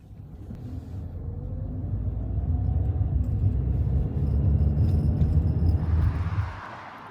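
A car drives along a highway on a road trip toward Indianapolis, Indiana, a steady low engine and road rumble building slightly and holding close and constant, then fading out abruptly near the end.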